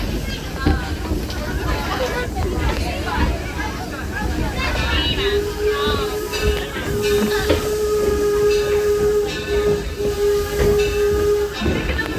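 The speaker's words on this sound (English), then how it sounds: "The locomotive that's pulling us today is our 1873 Torch Lake." The 1873 Torch Lake steam locomotive on the Greenfield Village Railroad, hissing steam throughout with a sustained whistle tone in the second half, under background crowd chatter and voices.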